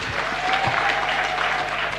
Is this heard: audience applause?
yes